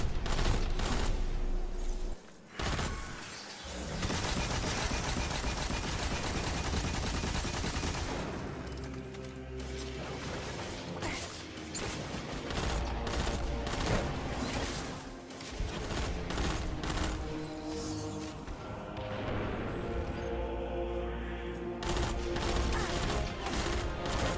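Heavy video game combat in Destiny 2 during a Strange Terrain nightfall, power-ammo weapons blasting against enemies amid dense explosions, impacts and mechanical clatter that continue loudly throughout with a few brief lulls.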